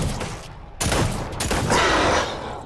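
Rapid bursts of gunfire from a weapon in the video game Fortnite, a dense loud volley that swells and continues steadily over game sound.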